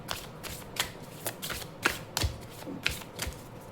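Tarot cards being shuffled by hand, a run of crisp, irregular riffling slaps and flutters at close range, fairly quiet, with no talk.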